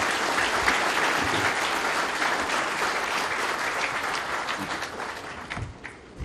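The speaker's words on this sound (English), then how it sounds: "Can we have a huge round of applause for him?" A hall of judges and guests at a courtroom farewell function for a High Court justice breaks into sustained applause, dense and even at first, then thinning into scattered claps as it dies down.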